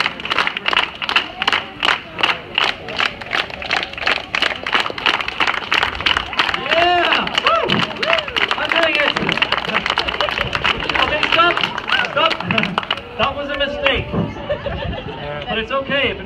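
A group of people claps in unison to a steady beat, the rhythm quickening as it goes, with crowd chatter and voices mixed in throughout.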